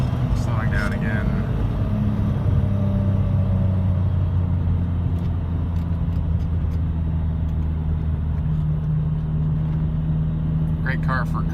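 A 1993 BMW M5 engine drops back to second gear and revs toward 7,000 RPM, a close, steady drone with rising harmonics that holds throughout before easing off.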